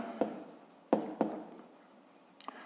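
A pen or chalk writes out a fifth-grade maths rounding exercise by hand, giving a few sharp taps and short scratchy strokes spread unevenly, close and fairly quiet, with no speech.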